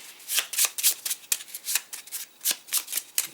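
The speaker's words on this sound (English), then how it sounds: "So I am going to then shuffle these cards." A deck of playing cards being shuffled for a print-and-play card game, a quick run of crisp riffling bursts repeating at a steady pace, close and fairly quiet with no talking.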